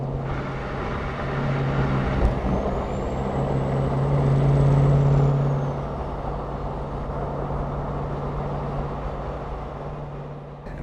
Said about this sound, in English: We can listen to Jake brakes all day long, and they never get old.